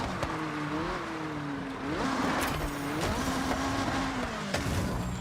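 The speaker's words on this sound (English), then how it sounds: "We're driving the Porsche, whatever. I don't know the name. It's like a prototype car." Porsche prototype race car engine roaring steadily in Forza Horizon 6, a sustained loud drone with shifting pitch as the car accelerates and changes gear, with brief tire noise, no talking.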